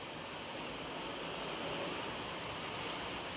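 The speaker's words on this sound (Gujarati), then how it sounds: "જોરદાર વરસાદ આવ્યો" Heavy rain falls in a steady, even wash of noise, fairly faint and constant from start to finish, with no talking.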